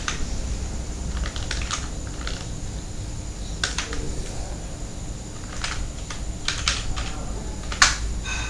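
Keys clack on a computer keyboard as a line of code is typed into a function. Scattered keystrokes come in short clusters with pauses between them, close and distinct over a low background hum, and no one speaks.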